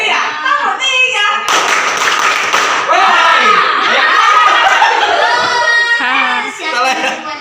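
A group at an indoor training session claps in patterned rhythmic bursts of sharp hand slaps, with voices calling and talking between and over the claps.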